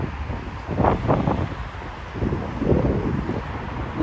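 Gusty wind buffets the microphone outdoors in London on a breezy day, low rumbling swells rising and falling in irregular bursts, close and fairly loud with no other sounds on top.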